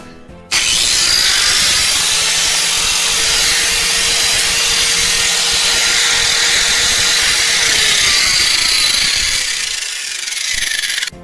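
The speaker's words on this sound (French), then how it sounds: "Nous aurons ensuite besoin d'un grinder." An angle grinder whines loudly and steadily for about ten seconds, a harsh high-pitched grinding that dips briefly near the end before cutting off.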